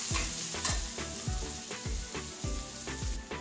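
Onion fries in a pan with a crackling sizzle while a spoon stirs it in regular scraping strokes, roughly every half second, close but fairly quiet, with no speech.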